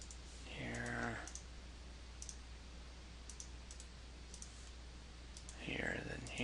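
Mouse clicks in CAD drafting software: a series of small, faint, evenly spaced clicks over a low background hum, with brief speech at the start and end.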